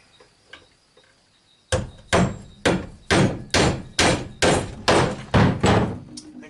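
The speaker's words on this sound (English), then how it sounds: "There goes a sledgehammer." A sledgehammer strikes about nine times in a steady rhythm, each blow a loud, close, heavy thud, after a few faint quieter knocks at the start.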